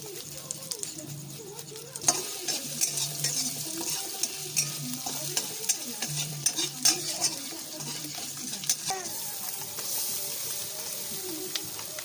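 Ginger grated straight into a pan of frying bay leaf, cardamom, cinnamon and cloves, with soft scraping strokes over a steady sizzle, occasional utensil clinks and a faint background voice.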